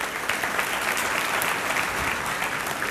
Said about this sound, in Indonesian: Kasih tepuk tangan Tuhan.